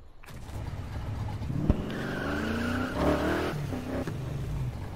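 Engine roar of a car driven hard in Need for Speed Heat, with tire skids and revving swelling over a steady loud drone for the whole stretch, no talk over it.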